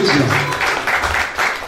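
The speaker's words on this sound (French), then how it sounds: "Ça s'applaudit très très fort." Audience applause at a foundation event with children's testimonies, a dense steady patter of many hands clapping throughout, loud and close, mixed with some cheering voices.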